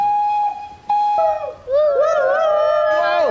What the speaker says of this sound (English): And that's the sound of Thomas, our train